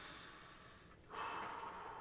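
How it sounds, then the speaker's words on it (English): A single deep breath drawn in through the nose comes as a soft, airy inhale that swells suddenly about halfway through, quiet and close. "Take a deep breath. I like to do in through the nose,"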